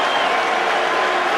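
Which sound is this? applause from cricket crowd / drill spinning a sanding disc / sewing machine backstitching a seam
applause from cricket crowd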